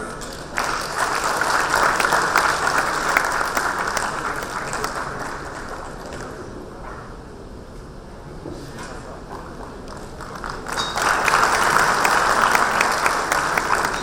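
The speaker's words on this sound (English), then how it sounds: "another round of applause for Ms. Ghazal Alag" Conference audience at a startup panel event breaks into applause that dips briefly in the middle, then swells again, dense and fairly loud throughout.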